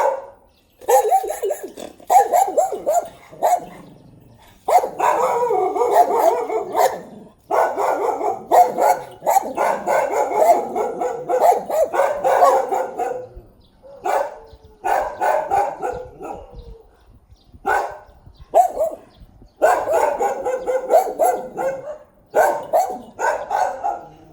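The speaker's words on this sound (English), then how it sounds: "And his stupid dogs." Several dogs bark and yap repeatedly in bursts, close and loud, with growls mixed in and brief pauses between volleys; no talking is heard.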